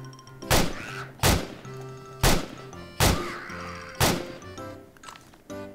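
A zombie in the video game 7 Days to Die is struck again and again, six heavy thwacking blows spaced roughly a second apart, loud and close with ringing game noise between hits.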